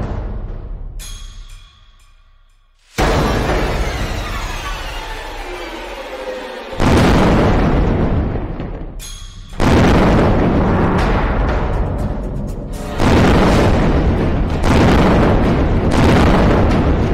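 Loud booming blasts from a Hamas missile attack on Israeli cities including Tel Aviv, several heavy explosions erupting one after another with rumbling roar between them.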